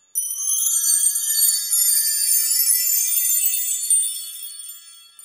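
Solid aluminum wind chime tubes ring in a sparkling cascade of high, glassy tones that hold steady for a few seconds and then slowly die away, clear and close with no one speaking.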